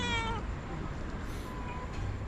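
A cat meows near the start, a short tonal cry, followed by steady low rumbling background noise with no clear voice.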